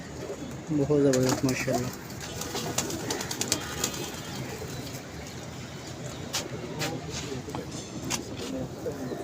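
Pigeons at a pigeon club coo and flutter softly while people talk nearby, a louder cluster of calls early on giving way to steady outdoor background.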